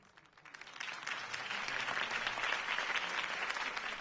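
Crowd applause for Harvey Dent's campaign speech in Batman: The Telltale Series, swelling from quiet to a steady, dense roar of clapping that holds to the end.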